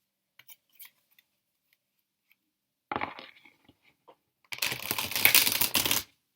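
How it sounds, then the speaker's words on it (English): A deck of playing cards being shuffled, with a short riffle burst mid-clip followed by a louder, dense riffling rush lasting over a second near the end, amid faint scattered ticks. "I just need to shuffle that again because that was not the best shuffle in the world."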